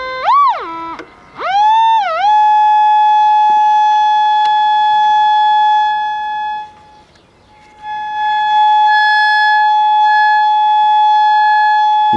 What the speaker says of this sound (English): This is using the audio function generator going into the volume control.